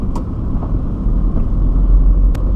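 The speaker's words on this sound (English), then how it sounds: "a little bit of wheel spin, but we're away" A Citroën Berlingo pulls away on a wet show ground, its engine a steady low rumble with a brief rise as the wheels spin, close and continuous throughout.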